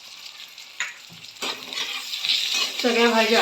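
Mixed vegetables (cooked onion, tomato, carrot, capsicum and peas) stirred and sautéing in a pan while a finger millet upma is prepared, giving soft sizzling and scraping that builds louder toward the end, with someone speaking briefly.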